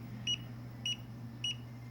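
A Mirarobot M600 drone refuses to arm and gives three short, evenly spaced electronic beeps, each with a brief pause between, sounding faintly over a low steady hum.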